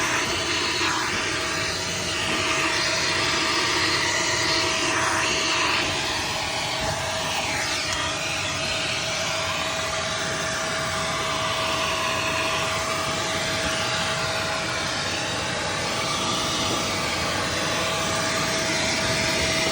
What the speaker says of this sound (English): then you're gonna put a brush attachment on your vacuum,